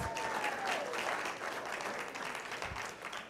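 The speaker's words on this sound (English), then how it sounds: "a big round of applause for these graduates who are stepping up to give them some love" A commencement audience applauds the graduates at a 2012 ceremony, a dense, sustained wash of many hands clapping that fills the room at an even level throughout.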